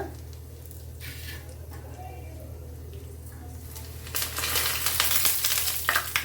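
Chillies and bay leaves frying in hot oil for a spiced white pea curry, a steady close sizzle that swells louder and brighter partway through.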